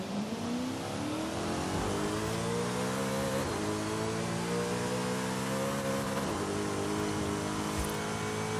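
An Alfa Romeo 155 racing car engine with a centrifugal supercharger in Forza Horizon 5, heard from the hood view, revs and climbs steadily in pitch, briefly drops as it shifts, then winds up again, loud and close with no voices.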